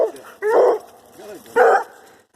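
Dogs yip and bark nearby, with Redbone Coonhound puppies and adult Airedale terriers present: two short, loud, whiny barks about a second apart, with a low whimpering sound between them.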